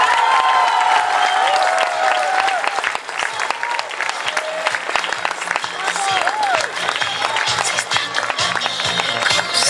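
A talent show crowd in Vallecrosia breaks into loud applause and cheering, dense clapping running the whole stretch with whoops and shouts rising above it, while voices speak under the noise.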